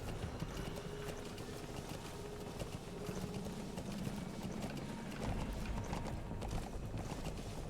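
Horse hooves clip-clop in Metal Gear Solid V: The Phantom Pain, a faint, quick patter buried in a dense, steady wash of outdoor noise and rumble, with no talk.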